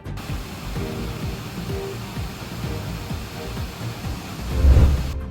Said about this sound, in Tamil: கனமழையால் கும்பக்கரை அருவியில் நீர்வரத்து அதிகரித்து பெரும் வெள்ளப்பெருக்கு ஏற்பட்டுள்ளது